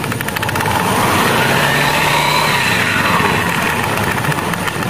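An automatic scooter engine runs with a rough, uneven note, a loud, close, steady drone with a buzzing rattle throughout and no pauses.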